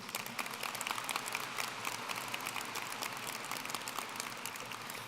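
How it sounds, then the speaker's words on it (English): Audience at the Doherty High School 2022 graduation ceremony applauds, a steady, soft wash of many hands clapping heard from a distance, with no talking over it. "Go ahead and give them a round of applause"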